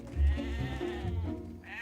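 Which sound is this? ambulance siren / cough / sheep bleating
sheep bleating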